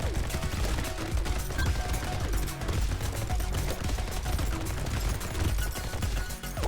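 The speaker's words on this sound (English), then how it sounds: "This is just chain gun killing everything right now." A chain gun in Brotato fires continuously, a dense, loud stream of rapid shots layered with busy game effects and music, with no break throughout.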